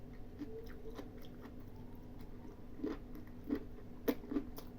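Crunchy raw onion in an ear mushroom salad being chewed close up, several crisp bites and crunches growing louder toward the end over a quiet background.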